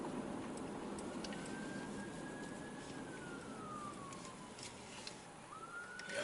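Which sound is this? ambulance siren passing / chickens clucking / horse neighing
ambulance siren passing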